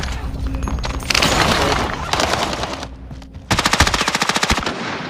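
Rapid machine gun fire in a video game, loud and close, sounding in several sustained bursts with a sharp, evenly spaced run of shots at the end.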